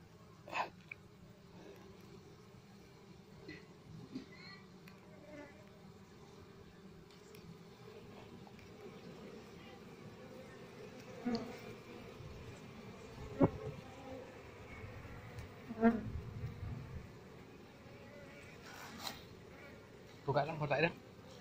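Honey bees buzz softly around a wooden hive box as the comb is cut out during a traditional Serawai honey harvest, a faint steady hum with scattered knocks and handling noises, while voices murmur nearby.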